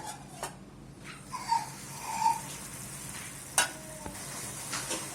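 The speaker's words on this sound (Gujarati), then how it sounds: "હવે આપણે આની અંદર જે ચાસણી કરી છે એ નાખી દેશું" Sugar syrup is poured into roasted semolina and gram flour in a pan for an Indian sweet, giving a faint, soft sizzle with a few light stirring clicks. There is no talking.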